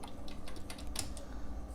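Fingers tap out a line on a computer keyboard, a quick run of close, crisp clicks in an irregular rhythm, with no talking.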